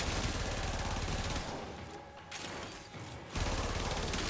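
Fully automatic Sister rifle firing in Warframe, a dense, rapid burst of gunfire with a brief lull in the middle before the stream of shots resumes loud and close.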